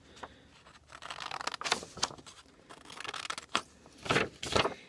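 Scissors cut paper triangles out of cardstock for an envelope box, giving soft, uneven snips and papery rustles close up, louder near the end, with no voices.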